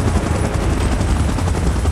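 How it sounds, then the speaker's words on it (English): A helicopter in a King Kong gorilla fight video game, loud and close, a continuous dense rotor roar with rapid thudding texture and no voices. "Chopper in position."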